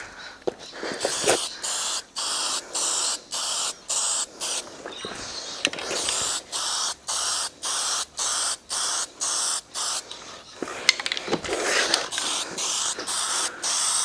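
Red aerosol paint sprayed as a light dusting coat on a Hilux rear brake drum: many quick, evenly spaced hissing bursts, close and fairly loud, with short pauses and a few faint clunks between passes, no talking.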